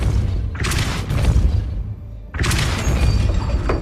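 Two forceful Depulso spell blasts in Hogwarts Legacy, each a sharp shattering boom with crashing debris that decays, separated by about two seconds, loud and close with no talk.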